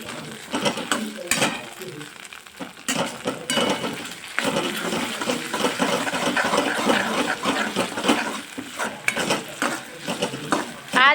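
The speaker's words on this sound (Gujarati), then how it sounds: "હવે એને પણ હું ગોલ્ડન બ્રાઉન સુધી મિક્સ કરી દઈશ આપણે એને બરાબર મિક્સ કરી દઈશું" A spoon scrapes and stirs ginger-garlic paste frying in a pan for chole, steady clinking and sizzling close by, with no talking.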